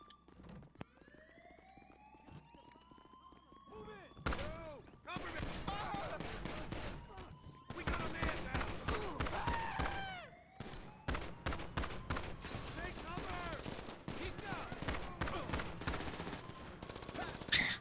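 Rapid bursts of .22 gunfire ring out in a video game, sharp repeated cracks in quick volleys with some siren-like wailing tones behind them, loud and continuous across most of the stretch.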